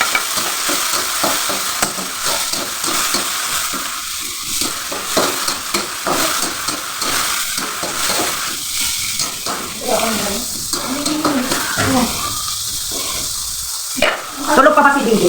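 Onion and tomato frying in a pan, stirred with a utensil: a continuous close sizzle with repeated scraping and clinking strokes, and a voice speaks softly now and then underneath.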